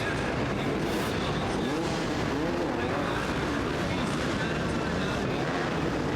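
A 2-stroke Beta motorcycle engine roars loud and continuous as the bike races over crushed cars on an obstacle course, its revving blending with dense crowd and track noise.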